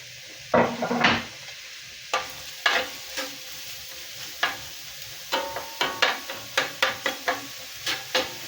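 Onion cooks in a pan with a soft, steady sizzle, broken by a string of sharp clinks and scrapes as a utensil stirs it. The stirring comes in irregular bursts, close by.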